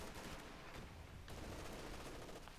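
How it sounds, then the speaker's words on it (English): Machine gun in a wartime strategy game fires on two infantry squads, a dense, continuous crackle of rapid shots mixed with other battle noise, loud and unbroken throughout. "That MG's firing away at those 2 squads"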